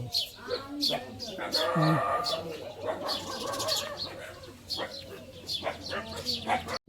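A cow moos in a drawn-out low call amid pigeon cooing and farmyard noise, with people talking nearby.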